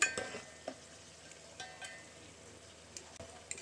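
Yogurt and meat being stir-fried in a pot for bhindi gosht, with a spoon scraping and clinking against the metal in light, irregular strokes over a faint sizzle, quiet and close.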